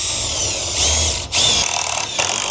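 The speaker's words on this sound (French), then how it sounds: "de repercer la tôle" Power drill boring through sheet metal in a home renovation: a loud, close, continuous whine that surges and dips briefly as the bit breaks through, heard alone.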